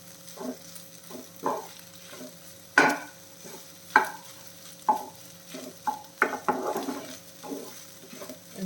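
Okra and egg frying and being stirred in a pan, with soft sizzling under repeated scraping strokes of a spatula and occasional sharper clinks against the pan, moderately quiet and close.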